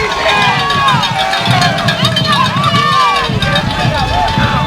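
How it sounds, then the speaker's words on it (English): Home crowd at a Peabody high school semi-final football game cheering loudly in a sustained roar, with shouts and whistles rising over the din and a nearby announcer's voice mixed in. "Listen to this Peabody crowd."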